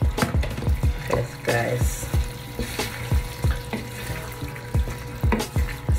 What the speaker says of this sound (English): now I am back to put my shrimp in the pot